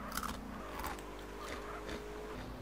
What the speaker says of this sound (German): Russisch Brot und das schmeckt hammermäßig geil. Knusper, knusper.